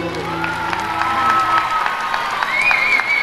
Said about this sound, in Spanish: Fuerte el aplauso, señores.